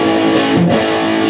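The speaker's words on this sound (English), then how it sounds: "you get some real heavy distortion" An electric guitar played through a tube amp's drive channel at high gain, giving a thick, heavily distorted sustained chord that rings loud and close, alone with no voice.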